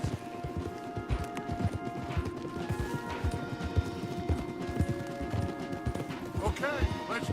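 Several horses gallop in Red Dead Redemption 2, a dense, steady drumming of hoofbeats close by with rattling tack, while voices talk over the ride.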